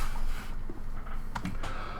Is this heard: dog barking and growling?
no